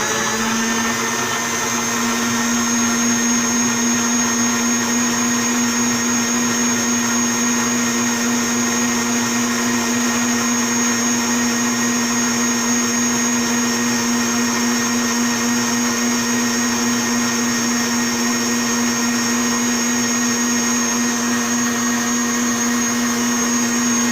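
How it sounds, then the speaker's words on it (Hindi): An electric blender grinding fresh strawberries into juice, running as a loud steady motor whine with a constant pitch for the whole stretch. "अभी हम इसमें स्ट्रॉबेरी डाल के इसको अच्छी तरह से ग्राइंड कर लेंगे।"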